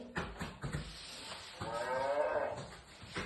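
A cow lets out one long, drawn-out moo after a few short thumps and rustles, fairly close and clear, with no talking.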